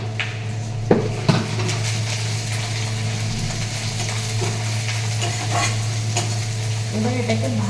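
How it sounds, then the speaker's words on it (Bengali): Spiced curry stirred and fried in a pan, a steady close sizzle with a spoon scraping and knocking against the metal, including a couple of sharper clanks early on. "এবার এটাকে ভালো করে কষিয়ে নেব।"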